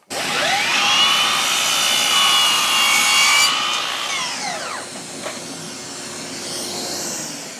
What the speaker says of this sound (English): So we'll cut ourselves a mitre in that direction.